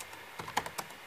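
Laptop keyboard keys are pressed on a notebook being tested for keyboard faults, a few soft, close clicks spaced irregularly, the last ones a bit sharper.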